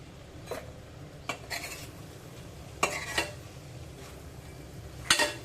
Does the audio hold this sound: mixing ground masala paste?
yes